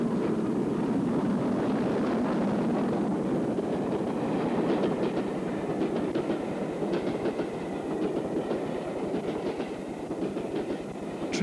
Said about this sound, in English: Jubilee Alberta passes the box at Picton in 1967.